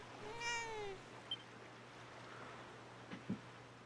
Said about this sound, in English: ooh, kitty.